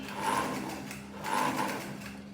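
A sewing machine runs in two short bursts of stitching with the needle kept down, a steady close mechanical whir rising and easing between them.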